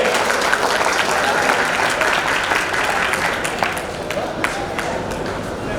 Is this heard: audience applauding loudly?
yes